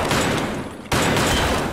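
Loud shotgun blasts in the video game Escape from Tarkov, one booming report followed by a second sharp shot just under a second later, dense and close.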